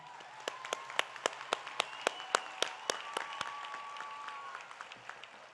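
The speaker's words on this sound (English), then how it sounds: "Let's give them a round of applause" A high school graduation audience gives a round of applause, heard as a steady run of distinct, fairly faint claps spaced in a rhythmic pattern, with a soft tone beneath.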